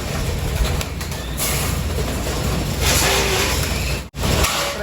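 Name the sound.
pigeons in a loft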